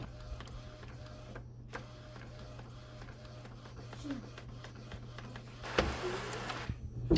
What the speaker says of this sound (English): We're gonna send it to the printer.